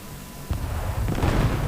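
Bombs from a LEO 451 bomber exploding in a flight combat video game, a sudden low boom followed by a second swell of rumbling blasts, loud and dense with no talk.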